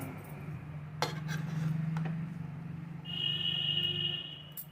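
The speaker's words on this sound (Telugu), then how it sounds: "బిర్యానీ దమ్ పొగలు కక్కుతుంది ఇప్పుడు మనం దీన్ని మిక్స్ చేస్తున్నాము" A spoon mixes steaming chicken dum biryani in a pot, producing a few sharp metallic clinks and scrapes against the pot, moderately close, over a low steady background hum.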